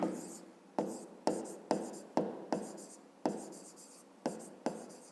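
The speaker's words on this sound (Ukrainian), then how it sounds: "Давайте це запишемо." Pen or chalk writing out a fifth-grade maths solution by hand, a rhythmic series of about nine scratchy strokes, each starting sharp and trailing off, close and clear.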